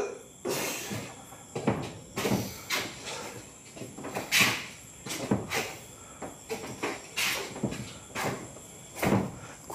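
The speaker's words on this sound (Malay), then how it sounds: "Pintu tak boleh buka." Someone repeatedly tries a door locked from the inside at an old family house, producing a series of sharp rattling knocks and clacks at irregular intervals, fairly close, with faint background hiss and no voices.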